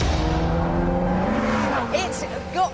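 A Ferrari California's front-mounted, fuel-injected 4.3-litre V8 rises in a revving whine and then fades, with a faint squeal and chirping tones toward the end.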